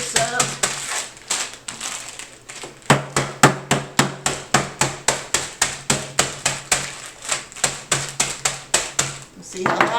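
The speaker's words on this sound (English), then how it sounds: "we're going to use a hammer that my daughter-in-law's mother gave me. We'll crunch this up." A hammer crunches dry ramen noodles in a bowl with about two dozen sharp, evenly spaced blows after a few scattered taps.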